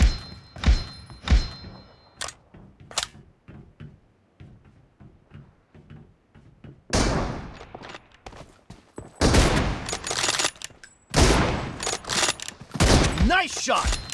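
Rapid gunfire from a video game shooter, with bursts and single shots, sparse and thudding early on, then dense, loud volleys in the second half.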